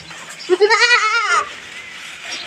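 A single goat at a semi-stall-fed goat farm gives one clear, wavering bleat up close, lasting about a second, with quiet surroundings before and after.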